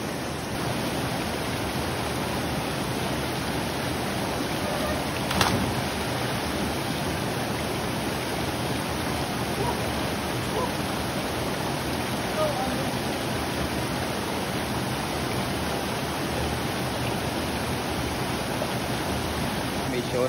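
River water tumbling over a small waterfall at Ginamon Falls, a steady broad rushing roar close by, continuous and loud without pause.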